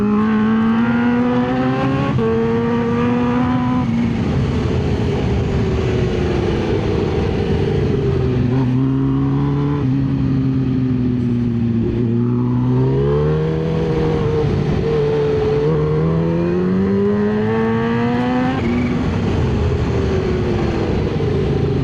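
Kawasaki Ninja H2 supercharged motorcycle on the road, its engine note rising and falling through repeated gear changes with a distinct tonal whine, loud and close, accompanied by steady wind rush.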